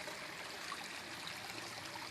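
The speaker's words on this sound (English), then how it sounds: "And then we have a little waterfall and stream" Small garden waterfall and stream trickling into a natural swimming pool, a faint, steady splashing babble with no voices.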